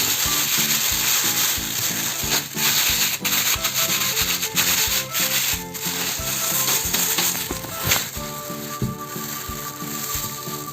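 Corn kernels and olive oil are shaken and rubbed together inside a plastic oven bag, producing a continuous loud crinkling, rustling and rattling close by with no speech.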